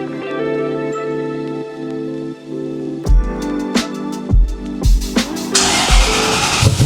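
A Toyota 1UZ V8 swapped into a farm truck starts up and runs with a loud, close throaty note, catching and revving in a few sharp bursts before settling into a steady rumble.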